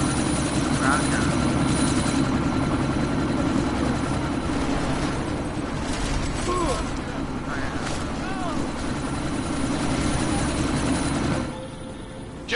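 A helicopter flying overhead in a game scene, its loud steady rotor drone continuing throughout before cutting off near the end, with voices and other faint sounds over it.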